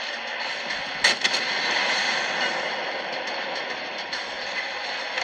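Warship guns booming in the World of Warships naval video game, a dense continuous roar of game sound with a couple of sharp firing bursts near the start.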